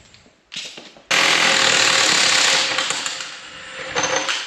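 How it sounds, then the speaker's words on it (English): An old Milwaukee 3/4 inch impact wrench rattles loudly and steadily for a few seconds, removing a nut on an engine cylinder, after a brief shorter burst. "We're gonna see if the old 3/4 inch Milwaukee still has it in her to take off the second one."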